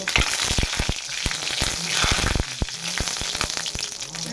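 Dried red chilies and five-spice seeds crackle in hot oil, with sharp pops and bursts over a continuous sizzle; no talk.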